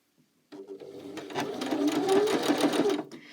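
A home sewing machine stitches fabric with the presser foot down, starting abruptly after a brief quiet and running steadily in a close, rapid whirring hum until it stops near the end.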